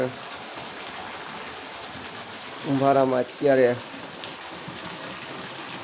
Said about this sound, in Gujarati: મિત્રો જોરદાર વરસાદ પડી રહ્યો છે